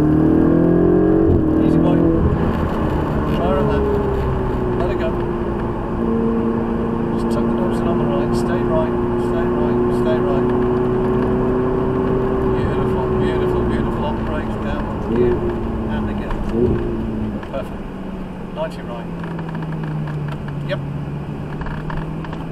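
A Ferrari 488 laps Mallory Park with a loud, sustained engine drone that rises and falls through the gears, heard from inside the car while a voice talks over it.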